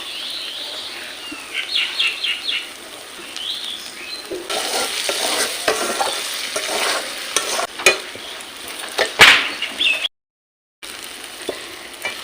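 Sugar caramelizing in hot oil for a mutton curry gives a steady frying hiss, joined by utensil clinks and a sharp knock. Bird chirps sound faintly at the start, and the sound briefly drops out near the end.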